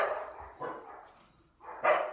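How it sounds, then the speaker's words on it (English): Several dogs bark in short bursts, spaced unevenly and somewhat distant, with the loudest bark at the end. "Oh, my God, the dogs."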